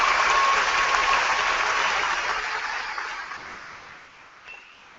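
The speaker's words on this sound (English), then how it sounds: "please, a nice round of applause for these individuals" Sustained audience applause at a 2014 Whitehall High School graduation ceremony, steady and dense at first, then gradually thinning and fading out over about five seconds.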